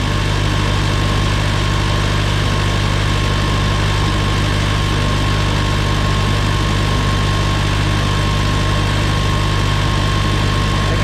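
A Farmall Cub tractor's small engine runs steadily close by, with a loud, constant low hum and droning vibration that holds an even pitch throughout.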